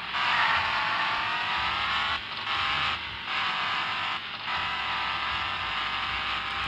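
A rat rod crawler truck engine revving in the video game Offroad Outlaws: a sustained, strained mechanical whine with brief dips and gaps as the throttle lifts, then the drone returns at high pitch.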